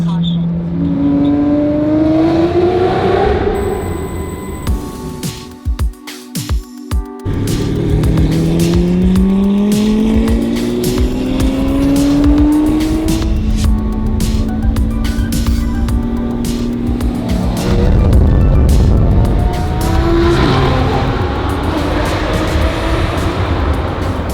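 A Lamborghini engine roars and revs continuously, with rising and falling pitch as it accelerates, while people talk over the noise.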